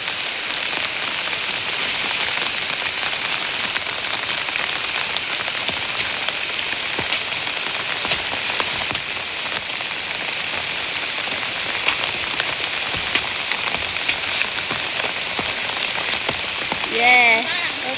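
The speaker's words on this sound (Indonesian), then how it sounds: "Hujan panas teman-teman. Hujan panas ya." Steady, dense rain patters down in a banana garden while the sun shines, a continuous even hiss with close drop impacts throughout and a brief faint sound near the end.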